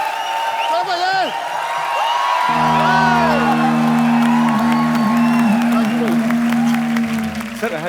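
A TV comedy show studio audience claps and cheers loudly, with whoops and shouts over music, sustained throughout.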